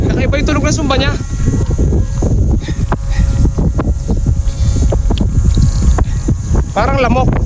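A kite hummer drones overhead in strong wind high aloft, a thin steady buzz like a mosquito under constant wind rumble, with someone talking throughout.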